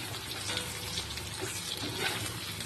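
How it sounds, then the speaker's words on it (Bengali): Potatoes and onions fry lightly in a pan, giving a soft, steady sizzle with faint crackles, quiet and close, with no talking. "দেখো আলু আর পেঁয়াজ হালকা করে ভাজা আমার হয়ে গেছে"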